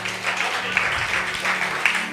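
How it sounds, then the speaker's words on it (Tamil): An audience at a Bible study gives a short round of brisk, steady clapping, close and fairly loud, continuing evenly for a couple of seconds. "கைத்தட்டுங்க அவருக்கு."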